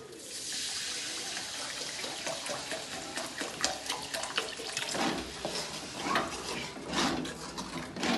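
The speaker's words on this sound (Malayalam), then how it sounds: "ഇതിലേക്ക് ഞാൻ സിർക്ക് ഒഴിക്കുന്നുണ്ട്" Vinegar is poured into hot beef pickle masala in a pan, a sizzling, splashing pour heard close and fairly loud, with scattered clatter and no talk.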